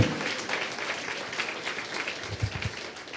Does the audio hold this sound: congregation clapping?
yes